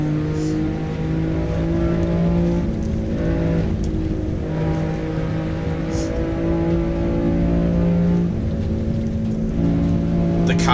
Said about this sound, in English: The cars sound so good as well.